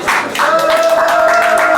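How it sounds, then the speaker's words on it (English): Studio audience clapping for a guest co-host on a talk show, a loud steady round of applause under a sustained tone, close and continuous. "Please give him a round of applause."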